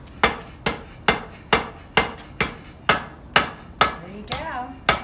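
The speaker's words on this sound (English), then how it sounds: "hit right at the anvil" A blacksmith's hammer strikes metal on an anvil in a blacksmith shop, about eleven sharp, ringing blows in an even rhythm, close and clear, with a brief faint voice near the end.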